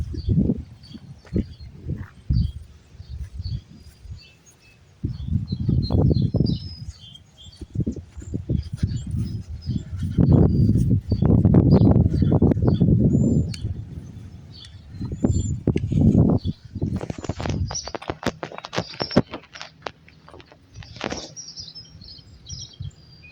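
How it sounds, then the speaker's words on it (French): Birds sing and chirp outdoors in a summer setting, scattered calls over rustling, handling noise and low rumbles, with brief bursts of activity throughout. "le son des chants des oiseaux et de la belle nature"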